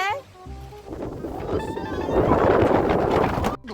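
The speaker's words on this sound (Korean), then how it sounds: "바람 너무 많이 부는데" Strong wind at a freshwater carp fishing spot roars and buffets the microphone, swelling louder through the middle and end as a steady, rough rush before cutting off abruptly.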